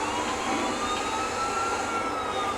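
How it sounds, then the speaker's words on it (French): A police helicopter in GTA 4 drones as a steady, loud turbine roar with a constant whine and no voices. "on a l'hélicoptère et c'est difficile d'échapper à ce con d'hélico"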